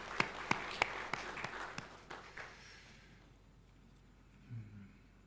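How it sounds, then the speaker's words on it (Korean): A church congregation at a Sunday worship service claps to welcome a family. A handful of sharp, scattered claps ring out at a distance, thinning out and fading to near quiet after a couple of seconds. "우리 박수로 환영하겠습니다."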